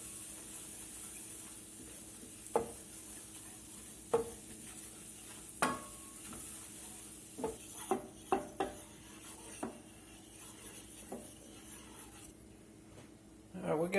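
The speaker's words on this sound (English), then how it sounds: "We're going to let this flour cook here a minute or two." Flour cooking in melted butter in a pan is stirred with a utensil, giving a soft background sizzle broken by scattered scrapes and taps against the pan, several clustered near the end.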